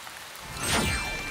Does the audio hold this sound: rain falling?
yes